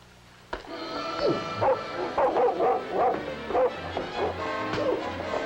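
A dog in a 1958 film barks, yips and whimpers in a rapid run of close, excited calls, with a low music or engine hum underneath.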